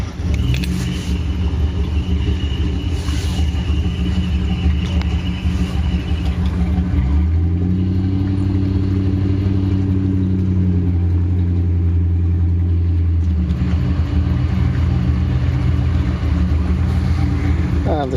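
Boat engine cranks over and catches, settling into a loud, deep, steady idle that drones on alone to the end.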